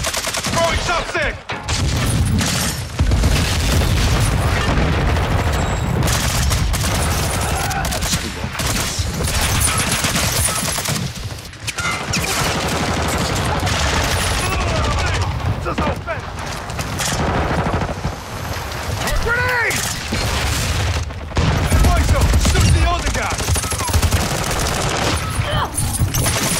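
Rapid automatic gunfire and explosions from the video game Call of Duty Modern Warfare 2 crackle in dense, loud bursts throughout, with shouted voices mixed into the fighting.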